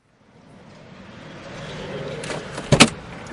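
A car sits quietly at first, then a mechanical whir and a sharp door-like clunk or two sound close by near the end, with no voices.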